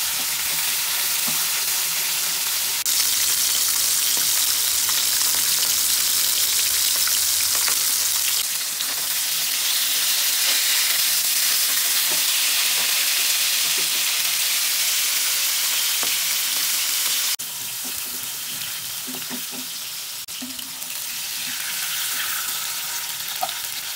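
Fish frying lightly in oil for a potol (pointed gourd) and potato curry, a steady close sizzle and crackle that runs unbroken throughout, with occasional soft stirring sounds and no voices.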